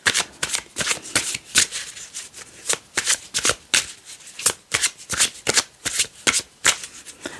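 A deck of tarot cards is shuffled again and again, a close series of crisp riffling bursts in an uneven rhythm with short pauses between them.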